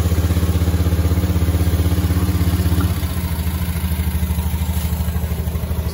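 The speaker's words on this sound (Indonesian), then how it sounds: "Kemudian kita on kan motornya" A Honda Beat ESP scooter engine with an open air filter runs steadily just after starting, a close, loud, even idle with rapid regular pulses, dipping slightly in pitch near the middle.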